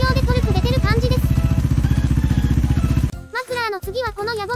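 A Vespa GTS250ie scooter idles through an aftermarket exhaust with a low, steady, pulsing rumble under a person talking. The engine cuts out after about three seconds, leaving the voices alone.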